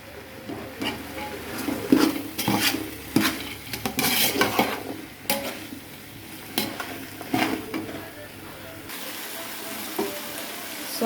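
Tomatoes and vegetables sauté in a pan with repeated spoon scrapes and metallic clatter over a continuous sizzle, loud and close throughout.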